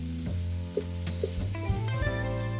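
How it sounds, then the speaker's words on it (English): Tomatoes tipped into spices sizzling in a pan for a Kenyan home meal, a steady close hiss with a few soft plops and clinks as they land and are stirred. "Now add in the tomatoes"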